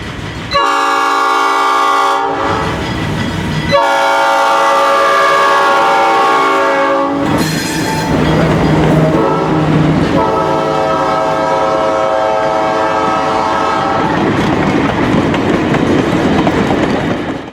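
The cast Nathan P5 air horn of an ALCO Century 630 locomotive blasts several loud chords, with brief gaps between them, while the train rumbles and clatters past close by.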